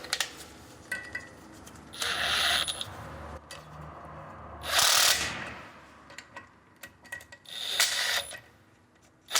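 A ratchet fitted with a 13mm socket works loose bolts on a Suzuki Samurai front steering knuckle during disassembly, with short bursts of rapid metallic clicking separated by pauses and quieter handling noises.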